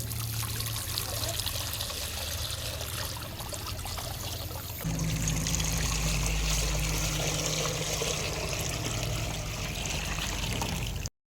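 Running water pours steadily over chopped spinach being washed in a kitchen, a continuous splashing trickle that grows heavier partway through and then stops abruptly.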